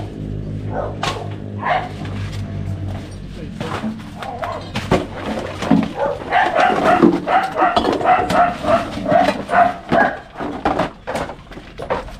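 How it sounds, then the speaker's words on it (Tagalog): Dogs bark repeatedly in short bursts, fairly close, with some yips and scattered thumps, while a person speaks intermittently over the noise. "Patahimik ka mga aso."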